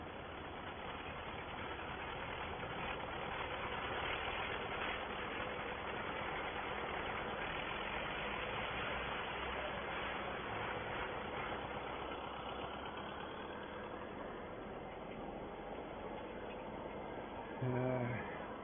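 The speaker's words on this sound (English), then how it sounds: "Bit of a rattly tractor while it's parked." A parked tractor's engine idles with a rattly, steady low rumble throughout, fairly quiet and constant, with a brief louder knock near the end.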